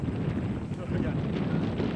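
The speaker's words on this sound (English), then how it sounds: "Here it's pretty windy." Strong wind buffets the microphone in a loud, continuous low rumble on a disc golf course, with a voice faintly mixed in beneath the roar.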